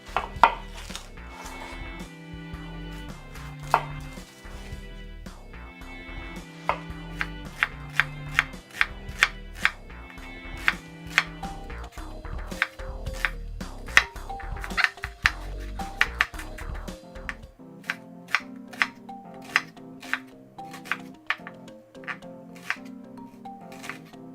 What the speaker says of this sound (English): Just going to slice my onion.